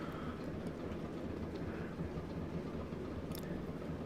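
Diesel locomotive running in the Train Sim World 2 game: a moderate, continuous low engine rumble with faint rhythmic clickety-clack of wheels on track and occasional brief higher squeaks, with no talk.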